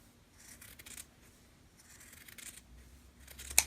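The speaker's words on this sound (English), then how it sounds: "So right now I can only cut between these 2 seam lines." Scissors snip through sock fabric for a sock monkey, producing soft, quiet crisp cuts in a few short bursts, close up and alone with no talking.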